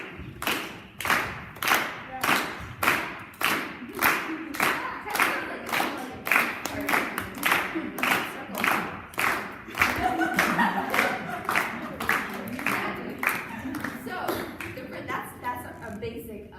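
A group of dancers at a ballet workshop in New York City claps in unison to a steady, even beat, with sharp repeated claps over roughly sixteen seconds and a voice talking over them.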